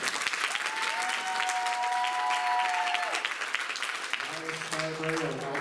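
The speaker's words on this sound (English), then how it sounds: "Could you please give a nice round of applause to our three soloists on that song" Steady, dense applause fills a high school choir spring concert hall for three soloists, a sustained crowd of clapping with a voice speaking over it partway through.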